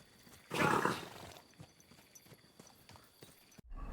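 Horse hooves clip-clop along in the video game Kingdom Come: Deliverance 2, loudest in a burst early on and then continuing as a quieter, steady trot under low ambient game sound, with no talking.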